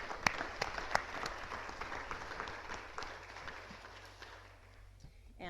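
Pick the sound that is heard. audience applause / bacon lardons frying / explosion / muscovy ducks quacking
audience applause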